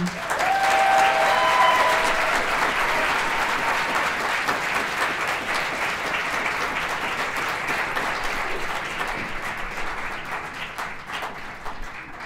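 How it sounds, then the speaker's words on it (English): Audience at an NYU alumni award ceremony giving sustained applause after a speech, loud and continuous with a few cheers near the start, easing slightly as it goes on. "Come on, another round of applause."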